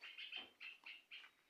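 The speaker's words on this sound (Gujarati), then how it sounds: "બુલબુલ બોલે છે" A bulbul calls four short chirping notes in quick succession, faint and alone against a quiet background.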